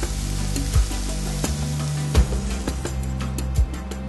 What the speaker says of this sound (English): You bring this up to a gentle simmer and allow it to cook for approximately 40 minutes